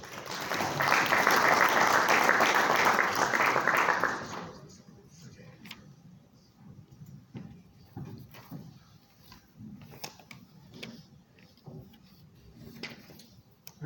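An audience at a mining conference applauds for about four seconds, a dense, steady clapping that then fades into quiet room noise with scattered shuffles, clicks and footsteps as presenters take the stage.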